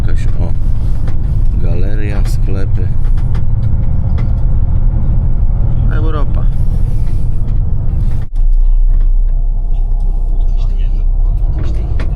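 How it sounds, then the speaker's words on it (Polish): A coach bus rumbles steadily from the inside on the ride to Tirana's central station, a constant low engine drone with road noise, while someone talks over it. "Autobus też taki autokar na poziomie."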